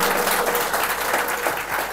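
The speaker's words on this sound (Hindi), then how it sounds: "एक बार जोरदार तालियां हो जानी चाहिए।" Enthusiastic applause from an audience at a senior citizens' felicitation program, continuous and fairly loud, many hands clapping at once for the whole moment.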